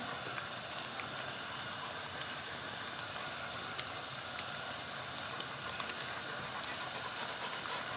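Shrimp sizzling in a frying pan for a shrimp parm sandwich, a steady, dense hiss and crackle of hot oil running unbroken and fairly close throughout.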